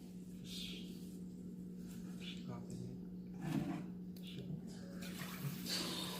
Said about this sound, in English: You're washing the rice, right?